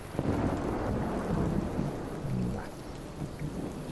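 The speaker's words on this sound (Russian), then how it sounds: "Ох, ты, дождь пошел." Heavy rain pours steadily while deep thunder rumbles and rolls through, loud and close, with no voices, in the video game Fallout: New Vegas.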